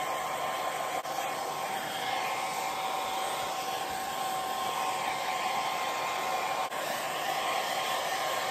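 A hair dryer blowing steadily on a craft project, a constant loud whooshing hum with a faint whine, running alone without pause.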